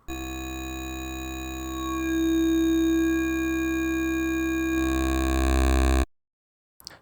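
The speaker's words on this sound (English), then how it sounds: "using the feedback can get you a really whistly sound" A sustained synth tone runs through a phaser with strong feedback, giving a whistly, ringing resonance that swells slightly before cutting off abruptly.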